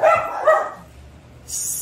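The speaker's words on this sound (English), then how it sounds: "with those dogs barking, you can bring your dogs and walk them." Dogs bark outdoors near the Partridge Creek mall area: a couple of quick, fairly close barks in the first half-second, then quiet before a brief hiss.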